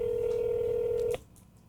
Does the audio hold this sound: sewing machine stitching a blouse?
no